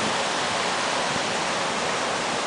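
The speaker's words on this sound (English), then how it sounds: "this river goes underground right here into this cave" A river rushes steadily as it pours underground into a cave, a loud, close, continuous wash of flowing water with no breaks and no voices.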